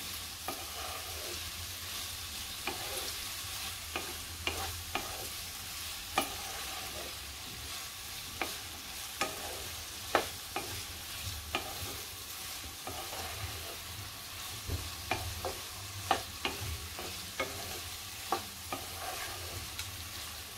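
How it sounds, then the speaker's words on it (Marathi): Pineapple pieces sautéing in ghee for sheera, a steady close sizzle with repeated sharp scraping strokes of a spatula stirring the pan throughout. "चांगलं मऊ करायचं आहे आपल्याला पायनॅपल तुपावरती चांगलं"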